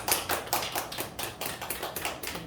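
A church congregation applauding, a steady patter of many hands clapping in a fairly even rhythm, moderately loud and close with no talking over it.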